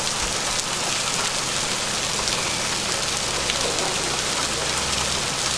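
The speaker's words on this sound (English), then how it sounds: "Why are the raindrops so big?" Heavy rain with big drops pours steadily on the surroundings during a cycling climb of the Tourmalet, a dense continuous hiss close by with no talking.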